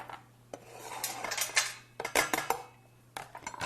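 Ingredients for a roasted sweet potato salad are smashed on a cutting board on a kitchen counter, sharp knocks and clattering thuds in irregular bursts, close and crisp, with short pauses between.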